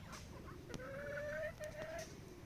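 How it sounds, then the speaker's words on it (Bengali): Farm-raised chickens cluck softly nearby, with a few short drawn-out calls over a quiet background hiss and no talking. "এবং আমাদের খামারে এই যে মুরগিও আছে, আমরা মুরগি লালন পালন করে থাকি।"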